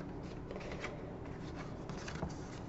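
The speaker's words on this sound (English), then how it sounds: "So I'm going to use my trimmer, and I am going to cut where I'm looking." A paper trimmer slides along a fold line, making a soft, close, continuous scratchy rasp of cutting paper.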